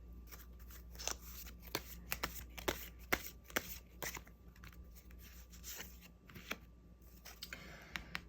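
Tarot cards being shuffled by hand, giving a quiet run of crisp riffling snaps and soft card flicks in an irregular rhythm, close up, with no talking.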